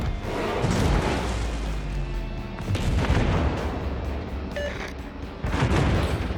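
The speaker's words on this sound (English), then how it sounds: "12 shells exiting the barrels of the Montana and then landing on the enemy ships" Twelve-barrel main gun salvos from the battleship USS Montana in World of Warships boom loudly and heavily, a dense run of deep blasts and rumbling impacts rolling one into the next with no pause.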